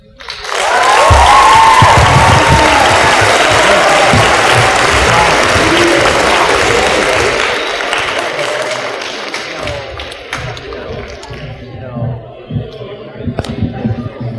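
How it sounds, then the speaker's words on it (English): Audience applause after a story slam swells quickly into sustained, loud clapping from a crowd, holds steady, then thins and fades into scattered claps and a few voices. "let's do one more round of applause"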